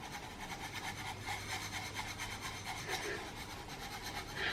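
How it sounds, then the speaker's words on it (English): A spoon stirs coffee and sugar in a cup, making a soft, continuous rhythmic scraping and swishing close by, quiet and without speech. "Once I've put the coffee and the sugar in, I just like to mix it,"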